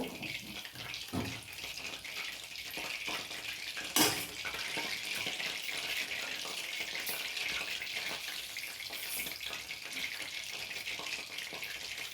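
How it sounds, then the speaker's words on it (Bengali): Chicken pieces fry in hot oil with a continuous bubbling sizzle, fairly quiet, with occasional clinks and stirring and one sharper pop midway. "এইভাবে আমি সমস্ত চিকেনগুলো ভেজে নেব"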